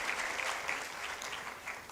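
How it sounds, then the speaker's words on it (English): An audience at a conference opening ceremony claps steadily, a dense crowd applause that carries on at an even level for the whole stretch with no voices above it. "Can we applaud her one more time, please?"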